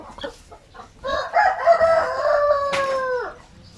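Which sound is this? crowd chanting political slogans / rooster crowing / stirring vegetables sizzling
rooster crowing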